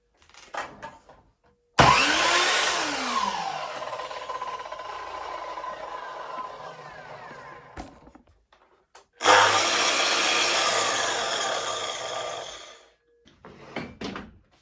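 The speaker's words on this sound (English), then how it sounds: "It's an abrupt start, whereas the Festool has a soft start motor." Two separate runs of a Festool power saw, one compared against an Einhell: each starts with a sudden loud rise, a pitch sweep as the motor comes up to speed, then a steady whine lasting several seconds before shutting off, with no voices.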